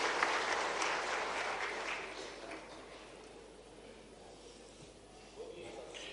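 Audience applause at a government ceremony in Bhopal, welcoming a state minister to the stage, a broad wash of clapping that is loudest at first and gradually fades.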